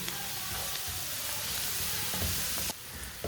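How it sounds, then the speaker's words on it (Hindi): Spices and vegetables for a noodle dish cook in a pan over low heat, a soft, even sizzle with a few faint stirring knocks, close by and with no voices. "सब मसालों को ना 1 मिनट के लिए पका लेते हैं, साथ में हमारी सब्जियां भी पक जाएंगी।"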